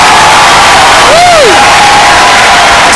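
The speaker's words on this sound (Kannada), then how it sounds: "ಚಪ್ಪಾಳೆ" Loud applause and cheering from a crowd welcoming singers at a stage event, dense and continuous throughout, with a whistle rising briefly over the clapping.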